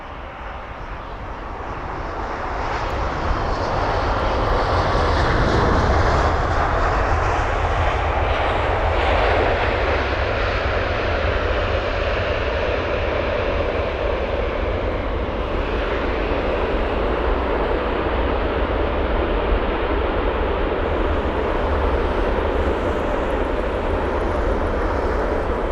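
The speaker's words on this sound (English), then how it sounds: "We've got China Southern Airlines, an A350-900 from Guangzhou." China Southern Airlines Airbus A350-900 jet, flight from Guangzhou, at London Heathrow: a loud, sustained turbofan roar that swells and holds for the full length, with no talk.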